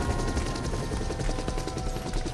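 A helicopter in the video game DayZ, its rotor chopping steadily with a constant mechanical whine, moderately loud and continuous with no voices over it.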